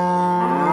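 A single low, sustained cow moo, loud and close, steady and droning for its brief length.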